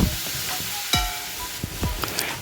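Vegetables frying in a pan with a little salt, stirred with a few scraping strokes over a steady sizzle, close and brief.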